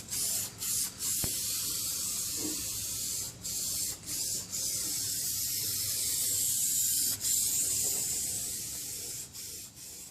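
Black rust-resistant chassis coating sprayed from an aerosol can onto Mopar A-body subframe connectors, heard as steady close hissing bursts with short pauses between passes.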